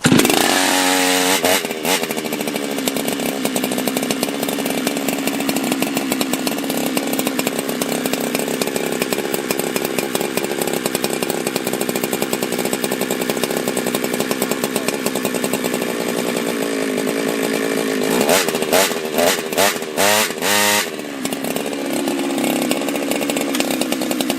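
A Husqvarna 365 Special chainsaw with a 52mm big-bore build runs loud and close, revving continuously at a steady high pitch, with a burst of rapid throttle blips near the end.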